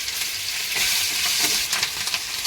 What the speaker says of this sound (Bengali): তেলের মধ্যে দিচ্ছি কালো জিরে আর চেরাই করা কাঁচা লঙ্কা